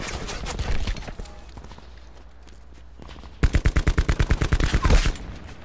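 Bursts of rapid gunfire in a video game battle: an early volley, a lull, then a long loud string of a dozen or so evenly spaced shots.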